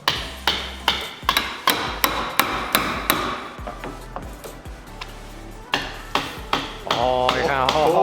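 Sharp hammer blows drive nails into a wooden crate again and again in a quick, uneven rhythm, close by, with a few voices briefly near the end.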